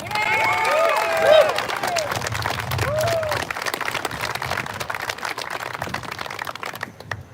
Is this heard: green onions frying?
no